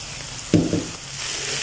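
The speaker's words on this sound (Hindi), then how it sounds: "अभी करेंगे इसको 1 से 2 मिनट फ्राई" Gajar ka halwa, carrot halwa with coconut and crushed almonds, frying in desi ghee in a pan: a short sudden sizzle flares up close, then settles into a steady low hiss.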